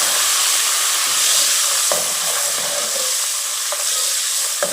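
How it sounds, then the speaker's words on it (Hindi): Garlic and ginger paste with white cumin fries in hot oil for a street-style daal mash, a loud continuous close sizzle and hiss with a few light stirring clicks. "अब लहसुन अदरक डालेंगे।"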